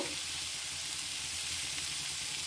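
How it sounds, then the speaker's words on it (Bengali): Loitta dried fish frying with onions in a pan, a steady bright sizzle close up with faint stirring, no talking. "তারপর পাঁচ মিনিট খানিক্ষণ এগুলো ভেজে নিব"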